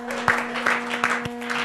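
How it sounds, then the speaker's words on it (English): A congregation claps hands in praise: a short run of sharp, evenly spaced claps, about four beats, over a low steady hum. "y'all give my hand clap of praise"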